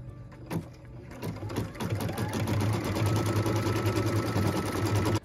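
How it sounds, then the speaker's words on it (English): Sewing machine stitching a tack-down line through batting: a brief start, then a fast, even mechanical whirring hum that runs steadily for several seconds before stopping abruptly. "we're going to go ahead and stitch the tack down line for the batting"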